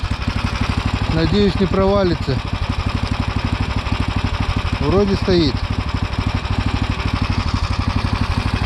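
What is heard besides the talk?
engine left idling on frozen lake ice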